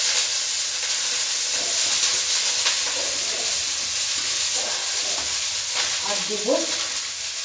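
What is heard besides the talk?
stir-frying chicken, cabbage, capsicum, carrot and beans for soup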